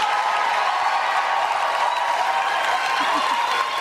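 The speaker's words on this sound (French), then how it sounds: "On applaudit chaleureusement Bob!" A TV gala studio audience applauds for Bob, a dense, steady wash of clapping with light crowd noise, close and sustained throughout the short stretch.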